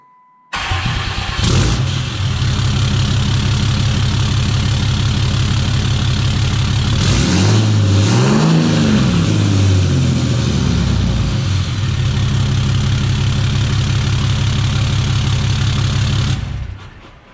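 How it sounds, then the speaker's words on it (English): A 6.7L Cummins diesel truck fitted with a stainless Yikatoo 5-inch exhaust cranks and fires up, then settles into a loud, steady close-up idle with a brief swell around the middle before running evenly to the end. "here's going to be the first start with the Yikatoo 5-inch exhaust system"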